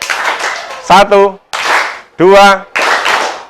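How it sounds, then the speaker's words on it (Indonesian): Classroom children clap together in a few rhythmic bursts, alternating with short chanted counting voices, close and fairly loud. "Coba kita tepuk dulu."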